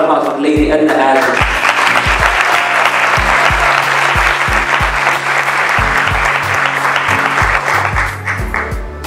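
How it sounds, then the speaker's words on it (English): A crowd at a ceremony honouring Edna Adan Ismail applauds loudly and continuously, with thumping music beats and voices under the clapping. "one more round of applause for Lady Edna Adan"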